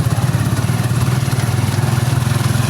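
A tricycle motorcycle engine runs steadily nearby with a rough, pulsing low idle throb that holds without a break.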